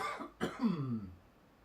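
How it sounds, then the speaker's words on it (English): A single short, close cough, a quick rough burst that trails off into a low fading rasp. "I can hear myself coughing."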